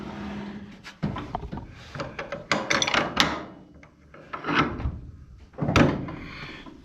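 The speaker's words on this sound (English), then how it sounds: "And that's got that door latched pretty good." A wooden door on a farm building is pulled to and latched, giving a close series of knocks, clunks and scraping rubs with no talking.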